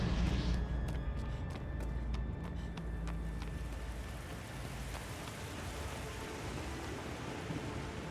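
Steady rain hisses throughout in Shadow of the Colossus, with faint crackling thunder early on, a soft, continuous stormy wash with no talk.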